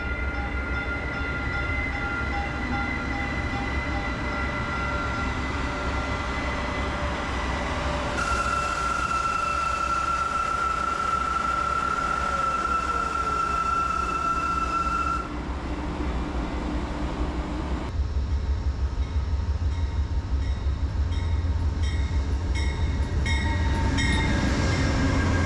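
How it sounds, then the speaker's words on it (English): A TexRail commuter train rolls past in Fort Worth, a loud steady rumble of wheels on rail with a sustained horn-like tone partway through, then rhythmic clicking as the cars continue by. "And here's another TexRail headed to the airport."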